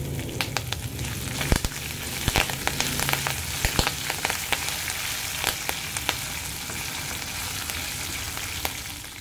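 Green chili and ginger sizzle in hot oil with cashews, a steady close frying hiss broken by sharp crackles and spatters, with no voices.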